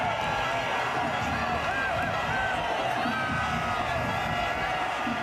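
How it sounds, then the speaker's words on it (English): Cricket crowd at a 2011 World Cup match between Sri Lanka and Canada roaring after a wicket falls, a dense sustained stadium cheer with whoops, loud and constant, with commentary voices over it. "The crowd erupt."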